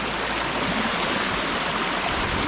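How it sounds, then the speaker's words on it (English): A fast river flows hard around wading boots, a steady, loud broadband rush of water close by with no let-up and no voices. "this river's flowing pretty hard."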